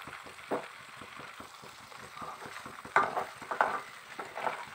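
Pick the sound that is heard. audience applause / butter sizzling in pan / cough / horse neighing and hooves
butter sizzling in pan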